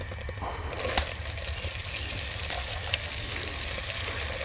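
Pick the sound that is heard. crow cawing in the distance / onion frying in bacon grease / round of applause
onion frying in bacon grease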